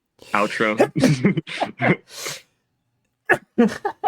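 A sneeze breaks out between stretches of conversation, a short, sharp burst among the voices. Several people talk before and after it.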